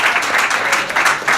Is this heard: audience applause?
yes